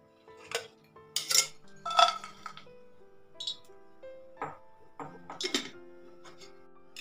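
Jaggery stirred into melted ghee in a pan for puran poli, with a metal spoon clinking and scraping against the pan in irregular bursts, close and clear with quiet gaps between strokes.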